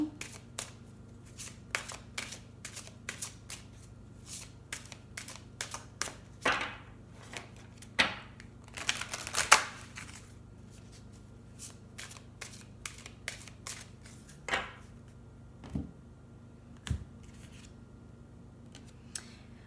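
Tarot cards shuffled and laid down by hand at close range, a run of crisp riffling slaps and flicks in irregular bursts over a quiet room, with no talking.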